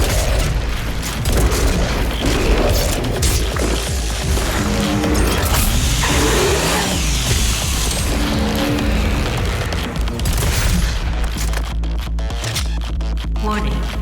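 The BFG 10,000 fires in the Doom video game with sustained heavy booming and rumbling, layered with mechanical whine and effects throughout, loud and dense from start to finish.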